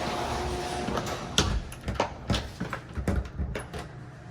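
A garage door being pulled closed, heard as a series of close rattling clanks and thumps with scraping between them, ending in a final knock, with no talking.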